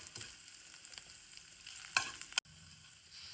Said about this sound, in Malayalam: നമ്മളിതില് കുറച്ച് എണ്ണ ഒഴിച്ചു, കടുകിട്ടു, വറ്റൽമുളക് ഇട്ടു, ഇഞ്ചി വെളുത്തുള്ളി ഇട്ടു